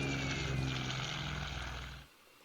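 Propeller planes drone in a video game, a loud, steady engine roar with buzzing harmonics that cuts off abruptly near the end, leaving a quiet hiss.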